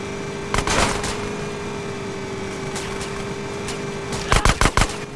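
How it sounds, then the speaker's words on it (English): Video game gunfire blasts away at a sewer gate, with a burst of shots early on, a lone shot in the middle and a rapid cluster of four or five loud cracks at the end, all over a constant engine-like drone. "Shoot out the gate!"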